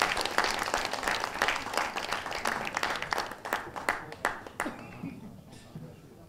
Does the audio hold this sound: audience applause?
yes